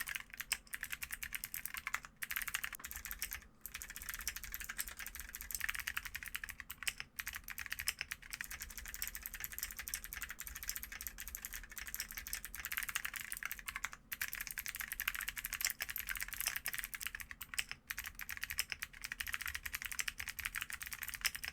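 A Kiiboom Moonlight 81 keyboard with blue clicky switches is typed on continuously, giving quiet, close, crisp clacking in a brisk irregular rhythm with no talk.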